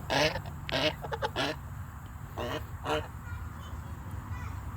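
On a farm, a duck quacks loudly in quick bursts while a dog chases it. A few honking calls come close together, then space out, with a voice briefly in the background.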